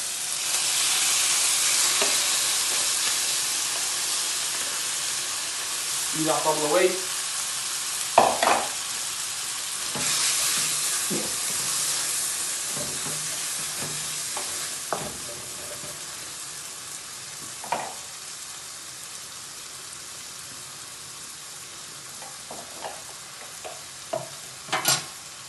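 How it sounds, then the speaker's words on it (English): Steady loud sizzling and frying hiss from beef in a hot wok, with occasional clanks and scrapes of stirring; a brief voice speaks partway through. "Nice sizzle"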